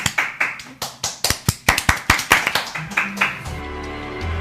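A studio audience claps in distinct rhythmic bursts of several hands for about three seconds, with a bright tonal sting entering near the end.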